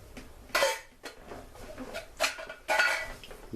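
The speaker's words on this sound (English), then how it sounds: "we're going to add some diced tomatoes as well" Hunt's diced tomatoes get added to a lasagna meat sauce, heard as several separate bursts of clanking from a metal can and pot, each a short, fairly close clatter with quiet pauses in between.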